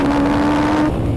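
Ariel Atom V8 on the Nurburgring, built from two motorcycle engines sharing a crank: a loud, steady engine and induction drone up close that eases off near the end.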